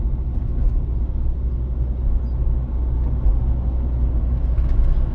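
A car rolls straight ahead along a Cherkasy city street with two lanes in each direction; a steady, low engine and road rumble continues evenly throughout with no pauses.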